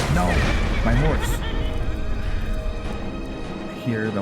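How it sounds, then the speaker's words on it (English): A horse in the video game Skyrim whinnies and squeals in pain amid game combat noise, with several wavering neighs at the start and another near the end, loud and close over constant background rumble. "I hear the horse getting hurt."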